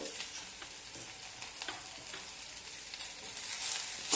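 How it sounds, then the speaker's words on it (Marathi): Tomato sautéing with reddish fried onion in a pan for kande pohe, a faint continuous sizzle with soft stirring, swelling slightly louder at the end. "टोमॅटो ही अगदी एक मिनिटभर परतवून घ्यायचा आहे"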